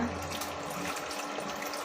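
Ice water pours steadily in a continuous soft rush over drained noodles in a strainer, fairly quiet with a faint hum underneath.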